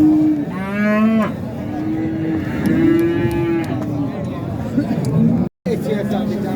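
Cattle at the Xaçmaz livestock market low in two long, drawn-out moos, loud and near, over a steady background of crowd chatter and talking.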